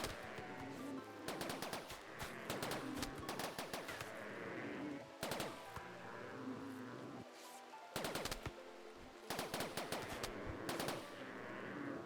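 Video-game gunfire in Rimworld as a group fires freely at a creature: repeated bursts of rapid automatic shots, loud and close, separated by short gaps over a steady background bed.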